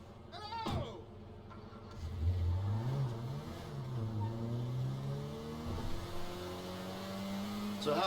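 A car engine drives steadily through a GTA V game scene, its tone rising and settling in smooth sweeps, with character voices talking over the engine drone throughout.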